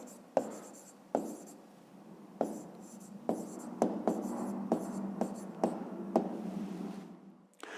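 A pen scratches across paper while a fifth-grade division-with-remainder maths exercise is written out. Soft, close strokes come in short bursts with small taps as each stroke starts, and there is no talk.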